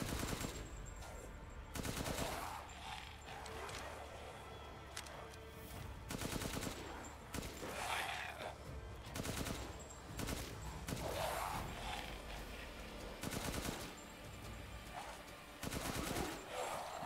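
Gunfire from shooting enemies in Resident Evil Village on PS5, with repeated bursts of rapid automatic shots separated by short quieter gaps, loud and close over low background game ambience.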